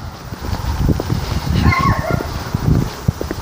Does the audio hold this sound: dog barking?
yes